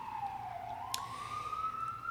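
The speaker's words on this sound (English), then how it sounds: "Let the siren go by." An emergency vehicle siren wails steadily through the whole stretch, its pitch dipping and then rising again as it passes at moderate distance over low background rumble.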